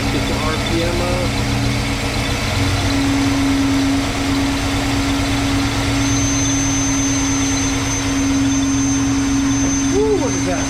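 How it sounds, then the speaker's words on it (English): A Mopar 383 V8 with a four-barrel carburetor runs close and loud, holding a steady droning rev with a rough undertone, while someone talks over it. "Let's get the RPM up."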